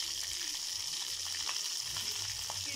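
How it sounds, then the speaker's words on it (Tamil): Cumin seeds spluttering in hot oil for a tomato gravy, a steady close sizzle dotted with small pops and crackles and no voices. "சீரகம் நல்லா பொரியட்டும்."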